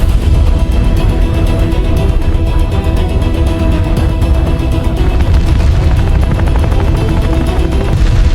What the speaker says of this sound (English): A full barrage of ordnance is released